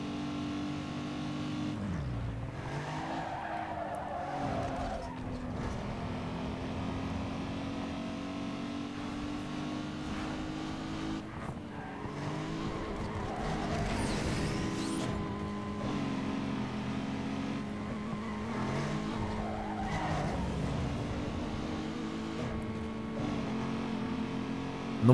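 A Supra race car in Need for Speed Underground 2, its engine droning and revving steadily through a long street race, with pitch rising and falling through gear shifts and passing cars, loud and continuous with no talk.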